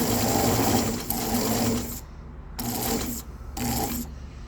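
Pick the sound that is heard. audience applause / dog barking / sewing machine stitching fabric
sewing machine stitching fabric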